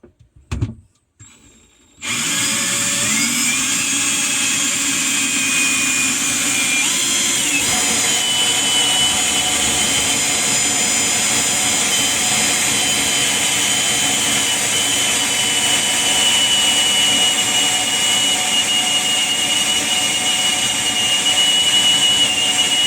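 A power drill bores a drain hole in a caravan water tank, running loud and continuous with a steady high whine after a brief start, close by and without talk.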